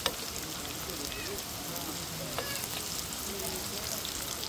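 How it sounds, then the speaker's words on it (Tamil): Big onions, sliced lengthwise, frying in hot coconut oil in a clay pot, giving a steady, close sizzle with soft crackles and occasional stirring all the way through. "நீட்டு வாக்கில் வெட்டி வச்ச பெரிய வெங்காயத்தை இறக்குறோம்"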